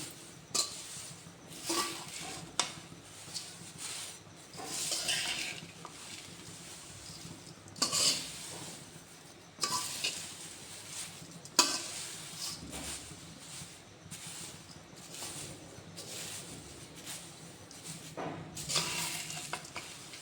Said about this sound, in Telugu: మారకుండా బాగా కలుపుతూ ఉండాలి కంటిన్యూగా ఇలానే